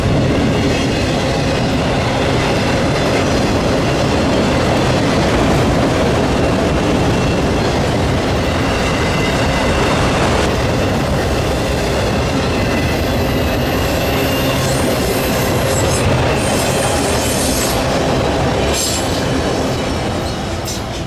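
A CSX freight train rolls past on the River Line, a cut of double-stack cars trailed by auto racks, loud and close with steady wheel rumble, rhythmic clickety-clack and squealing wheels rising near the end.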